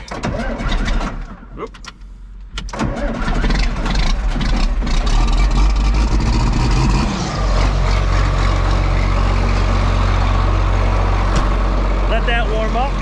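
A farm tractor, a messy machine just used on a manure spreader, starts up and settles into a loud steady idle, with a brief spoken exclamation near the start.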